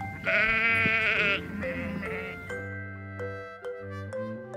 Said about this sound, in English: For sheep.